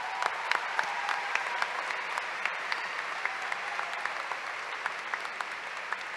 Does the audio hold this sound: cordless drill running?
no